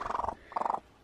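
A stray cat, a small lost kitten, purrs close up in two short rhythmic bursts of rapid rumbling vibration separated by a brief pause, clear and alone.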